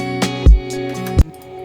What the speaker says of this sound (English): I start with a little drum fill, which is just using the kind of same drum samples